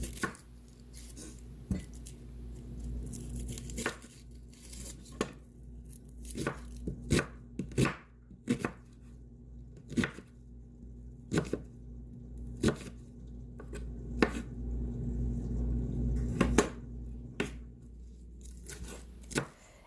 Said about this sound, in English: And now I'm going to chop up 1 onion.